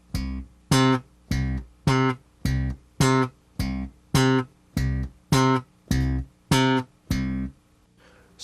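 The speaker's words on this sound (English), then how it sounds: "lift your fingers to deaden the note right away to give you a very short staccato sound" A bass guitar plays a row of about thirteen short staccato notes, evenly spaced and cut off sharply, each note deadened right after the attack, solo and close.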